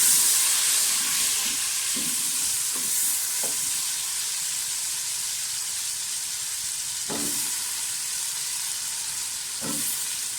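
Potatoes sizzle and fry steadily in hot oil in a pan after the onions, for an aloo dum biryani, with a constant bright hiss and occasional clinks and scrapes from stirring; no one speaks.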